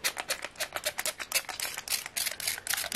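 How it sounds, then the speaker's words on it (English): Rapid bursts from a handheld spray bottle misting alcohol over polypropylene petri dishes, a quick irregular series of short hissing puffs up close with no talking. "So what I do is I get a spray bottle"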